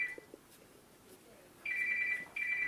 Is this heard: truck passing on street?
no